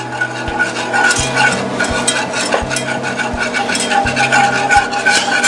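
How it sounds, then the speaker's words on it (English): A whisk stirs melted butter with sriracha sauce in a cast iron pan. Rapid, steady metallic scraping and tapping strokes repeat at an even rhythm over a soft sizzle, close and fairly loud. "Take my whisk, just kind of combine the two"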